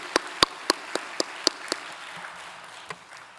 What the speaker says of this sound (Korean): 우리 영광의 주에 박수로 한번 큰 영광 돌리도록 하겠습니다.